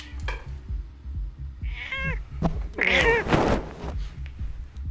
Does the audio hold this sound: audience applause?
no